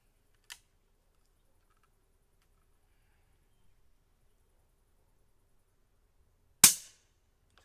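A Taipan Mutant/Veteran air rifle fires two sharp, close shots several seconds apart in a quiet setting, the first a faint crack and the second a louder snapping report with a short decay.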